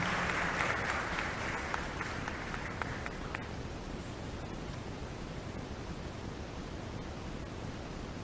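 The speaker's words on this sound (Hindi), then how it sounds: "आइए जोरदार तालियों से इनका अभिनंदन करें" Audience applause welcoming Chief Minister Shivraj Singh Chouhan at a public event in Bhopal, a steady wash of clapping that stays even throughout, brighter at the start and gradually blending into a broad noisy roar.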